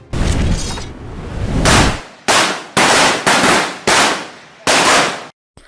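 Rifle fire at an army infantry division firing range during ROTC marksmanship training, a rapid series of about seven sharp, loud cracks with short ringing decays, irregularly spaced, close by and without talk.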